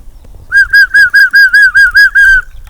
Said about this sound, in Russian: Есть свисток.